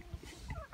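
A few farm turkeys gobble at evening feeding time, giving quick, bubbly gobbles close by and at moderate volume, with no talking.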